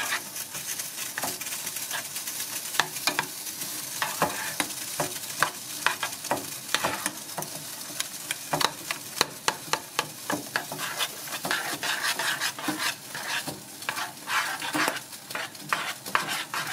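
Instant porridge being stirred in a pot, a steady run of scraping and clicking spoon strokes against the pot with a soft bubbling sizzle underneath, continuous and close, with no talking.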